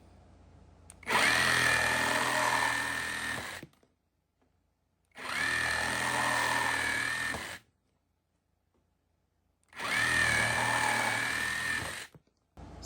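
A Hercules compact cordless reciprocating saw with a fully charged 4-amp-hour battery and a brand new blade cuts in three separate bursts of roughly two to three seconds each, with quiet pauses between them.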